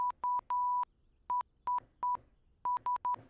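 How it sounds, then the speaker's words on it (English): Short and long electronic beeps at one steady pitch from a button on a small VR device spell out SOS in Morse code: three quick, three long, three quick, then a few more tones, crisp and alone. "That's just SOS in Morse code"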